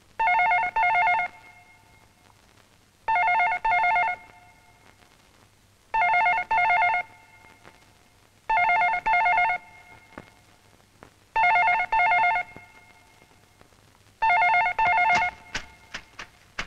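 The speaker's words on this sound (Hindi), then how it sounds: "तुम टेलीफोन की ट्यूनिंग करती रहो जब तक वो रजाई हटाकर टेलीफोन नहीं उठाता" A telephone bell ringing in paired bursts, repeating six times at a steady interval, clear and close with quiet gaps between rings and a few faint knocks at the end.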